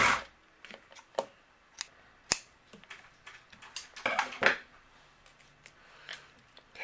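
Scissors snip the loose tails of twine on a handmade birthday card, a handful of short, sharp cuts spread across the clip amid light crafting rustles, close and fairly quiet.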